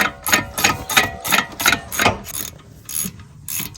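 A ratchet wrench loosens an 11mm bolt on the front air suspension of a Mercedes CLS550, giving a close, loud series of rhythmic clicking bursts that slow near the end.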